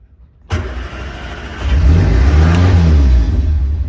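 A Morris Minor fitted with Accuspark electronic ignition, started on choke, fires abruptly after a moment of quiet, then rises into a louder, steady revving idle heard close up with no talking.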